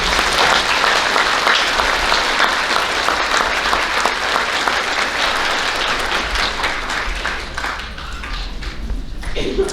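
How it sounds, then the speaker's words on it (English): A crowd claps steadily for several seconds at an elementary school awards ceremony, a thick wash of applause that thins slightly toward the end. "let's go ahead and give a round of applause for those third graders"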